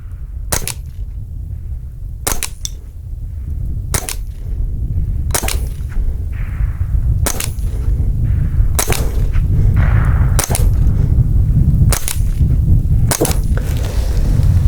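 A Winchester Wildcat SR .22LR rifle fires Federal high-velocity rounds at a target, a series of about ten sharp, close cracks spaced one to two seconds apart over a steady outdoor rumble.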